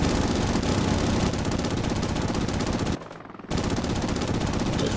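Sustained rapid machine-gun fire with engine drone in the helicopter combat video game Heliborne, loud and continuous, cutting out briefly for about half a second before resuming just as dense.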